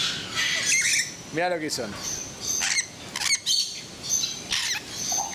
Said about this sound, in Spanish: parece que este loro me quiere decir algo